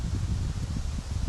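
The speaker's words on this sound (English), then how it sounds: "It's extremely windy here today." Strong wind buffets the microphone with a continuous low rumbling roar and gusting turbulence.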